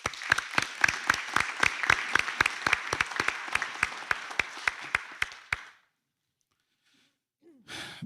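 Graduation audience claps for graduates, a fairly sparse, evenly paced burst of sharp claps lasting about five seconds before falling silent, followed by a faint voice.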